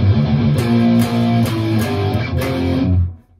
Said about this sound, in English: So that second half of the riff would sound like this.